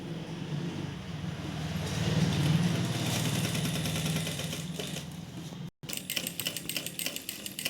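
A sewing machine stitches a cutwork strip onto the hem of palazzo pants with a steady rapid mechanical whir and needle clatter. It briefly cuts out, then resumes with a quicker, choppier chatter.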